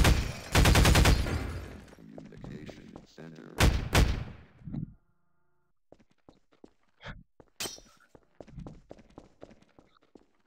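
Gunfire in the Half-Life VR game: a rapid burst of loud, close shots opens, followed by a couple of sharper single shots, then quieter scattered thuds and footsteps-like taps, with a voice talking in between.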